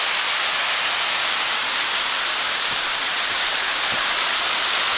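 Water pours down from a reservoir beside a wooded trail in Hickory Run State Park, a constant loud broadband rush with no pauses, close and continuous.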